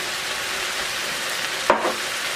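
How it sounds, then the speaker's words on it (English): Tomatoes dropped into a hot pan of softened vegetables for chicken cacciatore, a steady loud sizzle with a sudden sharper hiss and splutter as the food hits the oil. "I'm going to put our tomatoes in there now."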